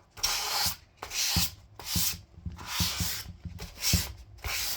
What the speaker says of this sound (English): And with this, you're really just scuffing the surface of the finish.